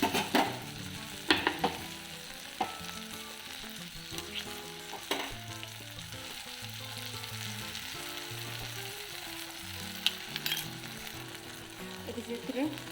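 Tomatoes with salt simmer and sizzle in a pan, a soft continuous fizz with occasional clinks of a spoon against the pan, while background music plays underneath.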